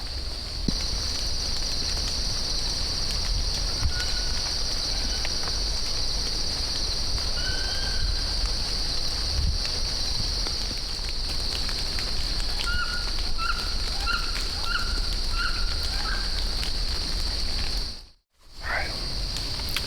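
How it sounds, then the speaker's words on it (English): Rain falls steadily in acorn-strewn woods during a deer hunt, a constant broad hiss throughout with a high insect drone and scattered faint bird chirps, and a brief dropout near the end. "It's still raining pretty good."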